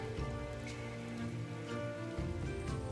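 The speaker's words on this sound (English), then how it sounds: "Can it not be raining?" Steady rain falling in a video game, a constant wash of drops under a low musical drone, with no talk.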